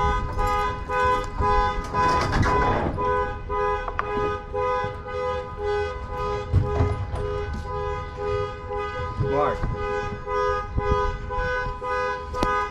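Truck alarm honking in repeated steady tones with strong harmonic blasts, loud and fairly near over outdoor background noise, with a little talk mixed in.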